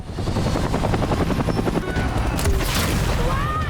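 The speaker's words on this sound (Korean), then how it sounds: "헬기까지 등장하고 스케일을 키워보지만" A helicopter arrives in a movie action scene, its loud, steady rotor thump pulsing throughout, mixed with booming impacts and dense action noise.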